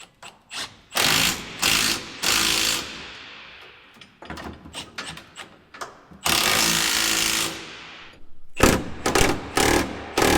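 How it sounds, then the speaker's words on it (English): A ratchet tightens four mounting bolts in a run of quick, loud clicking bursts separated by short pauses, close to the listener with no talking. "tighten up all 4 mounting bolts"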